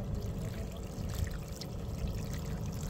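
Water pours and trickles steadily while dirty irrigation and fertigation tape is rinsed clean, a continuous low splashing flow with no talk over it.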